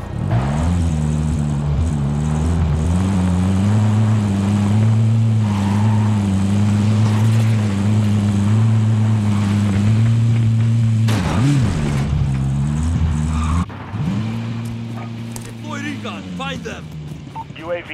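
A vehicle driven in a video game, with a loud, steady engine drone that shifts pitch now and then, and voices at times over it.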